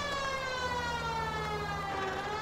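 A police car siren wails in the video game L.A. Noire, its rising and falling tone sounding loud and close, steady and uninterrupted, with the car's engine running underneath.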